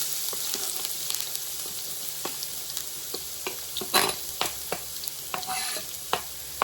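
Chopped onion sautéing in a hot skillet gives a steady sizzle, with scattered stirring scrapes and light clicks throughout, close by and with no voices.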